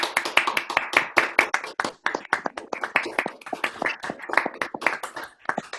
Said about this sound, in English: can we give a round of applause to Susanna, please, for a most interesting session